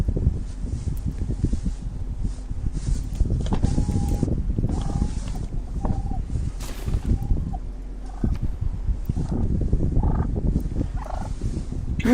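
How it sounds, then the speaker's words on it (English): Turkeys gobble repeatedly outdoors, the warbling calls rising over steady wind and rustling noise, fairly loud and close, with no clear speech. "Goddamn turkeys."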